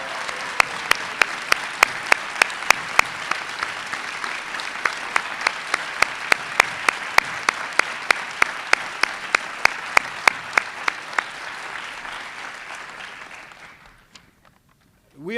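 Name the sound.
applause for athletes' families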